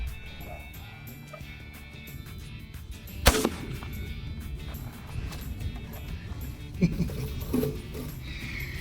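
A single sharp gunshot during a hunt, loud and close, rings out over steady outdoor background noise, followed by a couple of fainter knocks and sounds.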